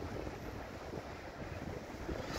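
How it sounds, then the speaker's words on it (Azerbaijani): Strong wind on the Caspian seashore in Baku, a loud steady roar of gusts buffeting the microphone with no pauses and nobody talking. "Bakı küləklər şəhəri, hər zaman külək var. Bugün də küləklidir"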